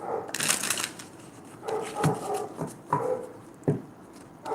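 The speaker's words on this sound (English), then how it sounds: "Let me shuffle your clarifying cards" A tarot deck shuffled by hand in several quick bursts of riffling and sliding card noise, close and crisp, separated by short pauses, with no talking.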